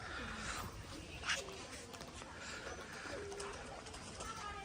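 Pigeons at a pigeon farm give soft, low cooing calls a few times, faint and near, with quiet talking in the background.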